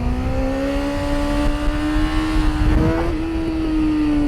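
A steady motorcycle engine drone holds a rising pitch, revving up gradually with a brief surge near the end, close and continuous.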